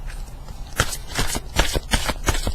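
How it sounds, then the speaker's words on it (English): Tarot cards are drawn and flicked from a deck in quick, close papery snaps and slides, several crisp strokes in an uneven rhythm. "I'm going to pull three cards more"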